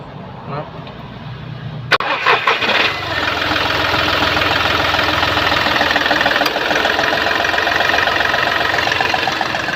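A Volkswagen/Skoda 1.2 TDI diesel idles with a faulty vacuum actuator vibrating and a bad N70 valve, giving a steady, close, rattly knocking hum after a brief clatter, with someone talking over it.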